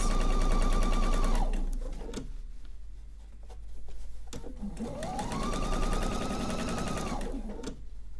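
A sewing machine runs in two quick bursts of rapid, even stitching as quilt pieces are fed through, with a short quiet pause between runs, close and clear with no talking.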